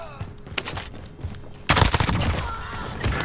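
A sharp sniper rifle shot in Call of Duty Warzone, a loud crack followed by ongoing gunfire and chaotic battle noise, with voices talking briefly.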